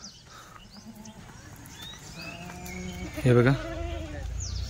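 Kathiawadi goats bleat close by, several wavering cries overlapping, one loud strained bleat rising above the rest, with someone talking over them.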